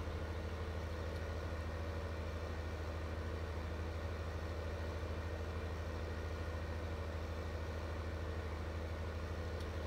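A tractor engine in Farming Simulator 15 drones at a steady low idle, unchanging and continuous throughout, with no voices.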